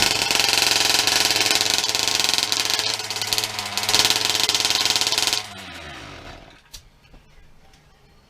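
A 1/5 scale RC car engine runs loud and steady at a high idle, with a buzzing, rattling drone for about five seconds before it drops off and sputters to near silence.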